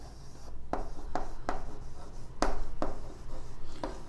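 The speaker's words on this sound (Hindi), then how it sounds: "तो लिखेंगे यहाँ पर सॉल्यूशन सेट" A pen writes out a solution set during a Class 10 maths lesson on linear equations. Quick, distinct scratchy strokes come up close in an irregular rhythm over a low steady background.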